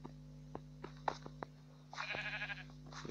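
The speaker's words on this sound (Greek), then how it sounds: "Και έχω και εδώ πρόβατα." Sheep bleating in Minecraft, two short wavering bleats in succession over a steady low hum and a few soft clicks, fairly faint.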